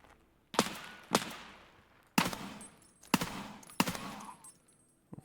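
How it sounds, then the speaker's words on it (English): Gunfire in the video game Escape from Tarkov: five sharp, loud shots or short bursts spaced about a second apart, each with a quick decay, plus some faint high-pitched game tones in between. "where are they shooting me from?"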